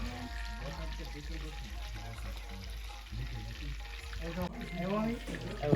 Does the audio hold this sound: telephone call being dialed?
no